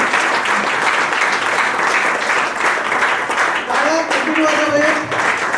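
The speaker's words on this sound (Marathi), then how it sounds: "आताच्या ह्या टाळ्या सरांच्यासाठी" A school audience of former students bursts into sustained, dense applause for their teachers, loud and close, with many hands clapping steadily and voices murmuring under it.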